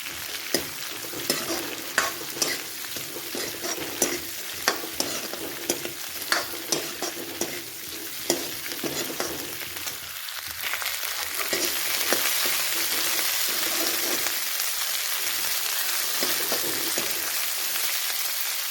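Green chillies roasting in a pan, stirred like a chutney: a steady sizzle and frying hiss with regular scraping stirs early on, the frying growing denser and louder later, no talk.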